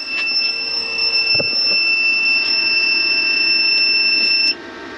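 A loud, steady electronic beep tone from a van's solar power unit starting up holds continuously for several seconds over faint hum, then cuts off abruptly.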